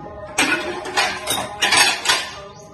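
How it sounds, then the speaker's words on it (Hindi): In a home kitchen, a pressure cooker and metal pots clank and scrape as they are picked up and set down for vegetable rice, with several loud, close metallic knocks. "वेजिटेबल राइस बनाने के लिए मुझे चाहिए कुकर,"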